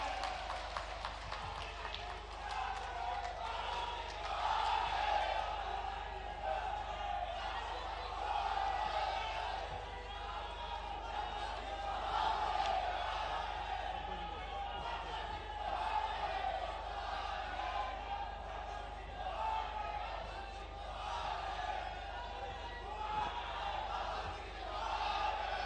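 A large indoor or outdoor audience at a state-level employment day event claps and cheers to welcome the MLA, a dense, continuous roar of applause lasting throughout at steady loudness.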